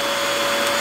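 A Yiktol dog grooming kit's vacuum unit starts up with no attachment on the hose, giving a loud, steady whine with a sharp tonal hum that holds evenly for under a second.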